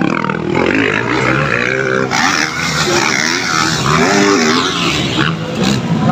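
Loud motocross motorcycle engines race continuously at an outdoor event in Sagbayan, Bohol, revving and whining close by with shifting pitch and no pauses.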